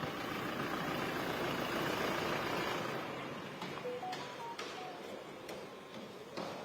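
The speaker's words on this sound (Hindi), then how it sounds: "ये गाड़ी स्टार्ट है, खड़ी है, एसी चल रहा है इसका" A parked Toyota Innova idles with its air conditioning running, a steady droning hum that eases after a few seconds, with a few faint clicks and knocks.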